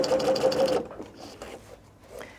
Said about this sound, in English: I am gonna back stitch to make that secure